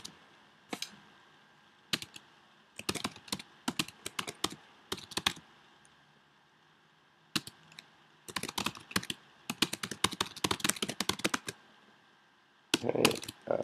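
Keyboard typing in irregular bursts of rapid clicks separated by short pauses, close and fairly crisp, as a business slogan is entered into a description field.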